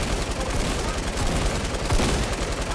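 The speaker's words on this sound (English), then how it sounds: "I got the new LMG in the game. Look, I'm gonna shoot it" A new LMG firing in a video game, a dense, steady stream of rapid shots blended with game noise, continuous and fairly loud throughout with one brief stronger burst near the end.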